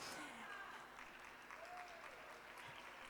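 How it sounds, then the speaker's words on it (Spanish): An audience applauds at a church conference session, with steady, fairly faint clapping that fills the whole stretch without a break. "No hacía falta el aplauso."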